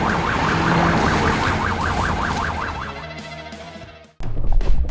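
Animated fire engine, rescue truck and police car sirens wail, sweeping up and down repeatedly over traffic rumble, then fade out before an abrupt burst of louder noise.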